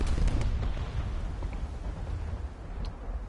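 Incoming naval gunfire in War Thunder, heavy-cruiser shells landing as a dense, continuous low rumble of booms and explosions, with a few sharper blasts near the start and one brief crack toward the end.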